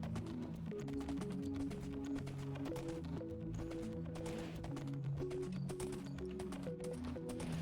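Horse hooves clip-clopping in a video game, a steady rhythmic trot of close, clear hoof beats over a layer of tonal game music.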